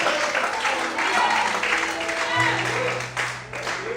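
Crowd applause at a church worship service fills the space, a dense steady clatter of clapping with voices and background sound mixed underneath.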